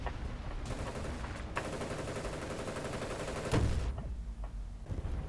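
Gunfire in a first-person video game: rapid bursts of automatic fire rattle in long strings, punctuated by a heavier blast midway, all moderately loud and close with no speech.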